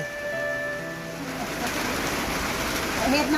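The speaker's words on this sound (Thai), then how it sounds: "บรรยากาศดีฝนตก" Steady rain hisses over an open rice field, with a few birds calling faintly in the background.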